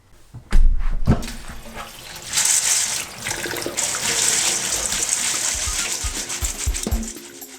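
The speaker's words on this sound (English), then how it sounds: "we're going to put in 12 cups of water" Water pours into a large pot for camp-style white bean soup, a sustained splashing rush after a few sharp knocks, steady and close for several seconds.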